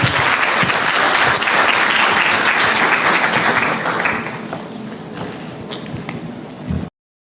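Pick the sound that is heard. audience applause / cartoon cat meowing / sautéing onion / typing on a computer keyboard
audience applause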